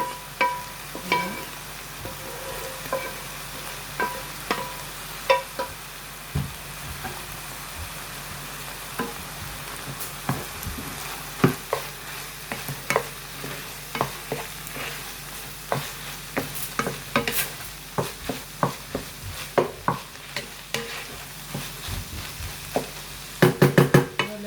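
Ground meat and mushrooms sizzle steadily in a pan while a utensil stirs and scrapes, with frequent light knocks against the pan over a continuous frying hiss.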